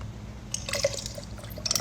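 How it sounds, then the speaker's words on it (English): Milk trickles over ice in a glass for a latte, a quiet, brief pour with soft drips and faint clinks of ice. "I like to pour the milk and the ice first"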